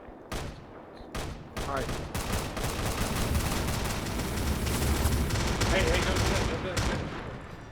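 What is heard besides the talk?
gunfire in a video game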